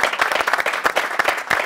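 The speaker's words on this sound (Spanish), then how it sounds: "Fuerte el aplauso para ustedes mismos" Youth audience members on a television show clap together in brisk, energetic applause, close and loud, a quick rhythmic patter of many hands.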